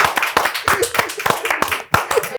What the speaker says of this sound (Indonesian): Tepuk tangan dulu Kunto Aji.